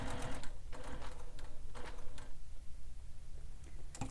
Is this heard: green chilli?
no